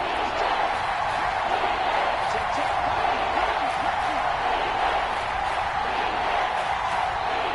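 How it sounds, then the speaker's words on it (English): A stadium crowd in the Madden NFL 22 football video game roars steadily throughout as a big third down approaches, a loud, unbroken wash of cheering with commentary talk over it. "The crowd getting into it as we come up on a big 3rd down."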